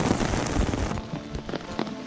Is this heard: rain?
yes